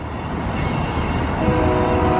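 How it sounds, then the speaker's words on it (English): Train passing in the distance near a transit-only bridge in Portland, Oregon, a steady low rumble with faint horn-like tones rising toward the end. "And I hear the train way off in the distance."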